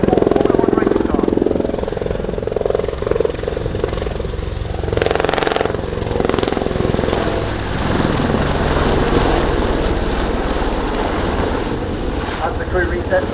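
An AH-64D Apache helicopter at an air display sends a loud, steady rotor and turbine roar with gusty wind noise, swelling briefly in the middle while a commentator's voice talks over it.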